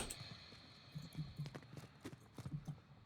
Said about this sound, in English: I hear footsteps close.